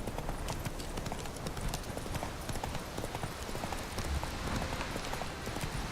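Horse hooves galloping in The Witcher 3 video game, a fast continuous clip-clop drumming at a steady pace, loud and dense throughout.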